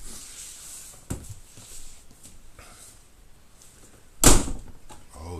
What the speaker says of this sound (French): Oh, doucement les portes, putain.